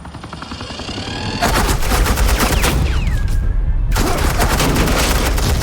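Suppressing gunfire in the video game Batman The Enemy Within: dense, rapid automatic bursts that kick in loud after a short rumbling lead-in and keep rattling steadily to the end, with a brief dip partway through.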